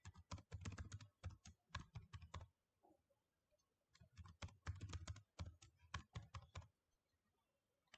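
Keys clatter rapidly on a computer keyboard as a password is entered during a Sitefinity 13 site setup, two close bursts of brisk typing separated by a short pause, with no talking.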